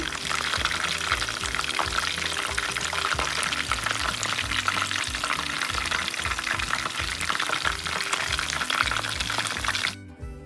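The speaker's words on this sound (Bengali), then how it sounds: "এপাশ ওপাশ করে ভালো করে ফ্রাই করে নেবেন" Food frying in a pan as it is turned over, a loud, continuous crackling sizzle with bubbly liquid texture that drops away abruptly near the end.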